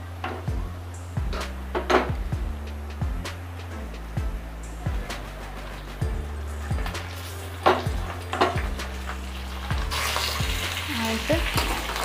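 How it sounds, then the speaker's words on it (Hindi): Chicken pieces fry with browned onions in a pot for biryani, a continuous sizzle under repeated stirring scrapes and clinks of a spoon against the pan, with a brief louder hiss near the end; no talk. "अब इसमें हम ये अपना चिकन सारा ऐड कर देंगे।"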